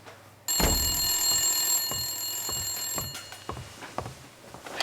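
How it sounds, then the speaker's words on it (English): A telephone rings in the video game Blacksad: Under the Skin, a loud sustained ring starting abruptly and cutting off, followed by a regular series of ticking clicks, with no talk. "We didn't get to the phone in time."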